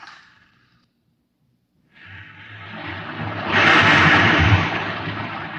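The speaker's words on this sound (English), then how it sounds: "You can hear the roaring of the gases in the test chamber behind me." A rocket reactor engine roars in a test chamber: after a brief sigh and two seconds of silence, a broad rushing roar rises and swells to a loud, steady, sustained blast.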